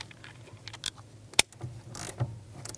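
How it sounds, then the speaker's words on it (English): A socket wrench ratchets on the brake master cylinder nuts of a Ford F-150 in close, quiet clicking bursts, with a sharp metallic tap partway through. "with a 9/16 or 14mm socket, we're going to take the nuts off the side that go around the brake master"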